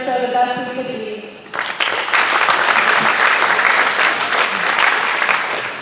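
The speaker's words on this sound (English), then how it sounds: "please give a round of applause for all their hard work and determination" A school awards assembly audience breaks into loud, full applause that starts abruptly after a spoken introduction and stays dense and steady to the end.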